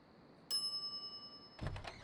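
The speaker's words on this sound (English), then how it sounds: "Ring bell for service." A service bell on a counter in The Secret of Monkey Island Special Edition rings once with a bright, ringing ding that lingers, followed by a short burst of game sound effects.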